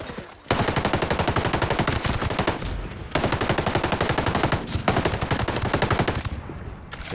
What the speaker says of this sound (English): I think this is probably one of the best LMGs I've shot with.